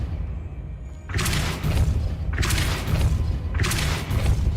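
Depulso force-push spell cast in the Hogwarts Legacy video game, heard as three loud whooshing blasts in steady succession, each a broad burst with a low thump, after a brief quiet start.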